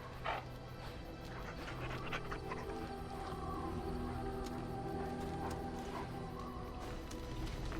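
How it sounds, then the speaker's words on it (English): A dog panting in Dragon Age Origins at a camp, steady breathy huffs under continuous game music and ambience for the whole stretch. "Puppy dog."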